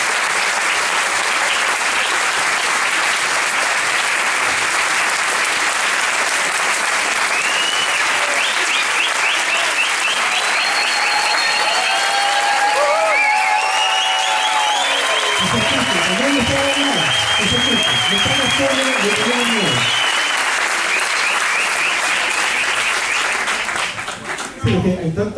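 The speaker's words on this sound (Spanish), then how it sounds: "Un aplauso a los funcionarios de la inteligencia policial" Applause from an audience at a lecture on a constituent assembly, held in honor of police intelligence officials. Dense, loud clapping runs throughout, with cheers and shouts rising over it partway through.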